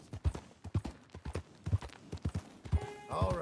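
Horse hooves clip-clop steadily in a PS4 video game, a close, loud, rhythmic run of thudding steps, with a brief tonal game sound near the end and no talk.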